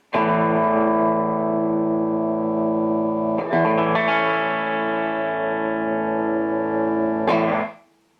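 Electric guitar played through a Marshall tube amp on channel 1's red mode, giving mild overdrive; sustained chords ring loud and steady with a fresh strum midway and another near the end before the sound cuts off.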